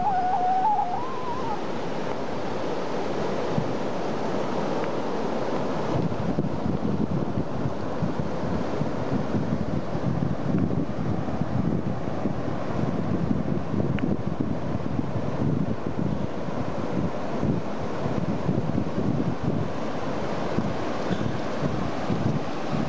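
Ocean waves and wind along the Costa Rica coast, a steady broad roar of surf and gusting wind buffeting the microphone, continuous and unbroken throughout.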